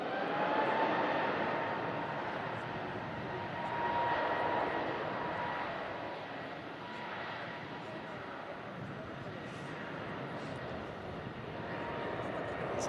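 An EasyJet airliner bound for Antalya starts its takeoff with a steady, distant jet roar and a faint whine, and voices talk through it.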